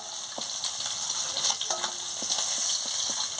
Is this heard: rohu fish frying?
yes